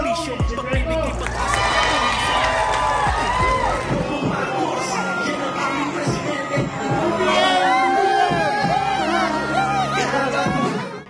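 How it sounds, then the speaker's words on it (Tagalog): A loud crowd in Calamba, Laguna, shouts, whoops and cheers as a political campaign caravan passes, a dense, close roar of many voices that holds steady with bursts of higher yells. "Pagdating naman sa Calamba, hiyawan at suporta ang sumalubong sa dalawa."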